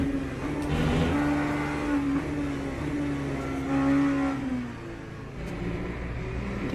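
An LMP2 prototype race car engine in Le Mans Ultimate drones loudly with a steady high tone, rising and falling through gear changes and throttle swells across the run.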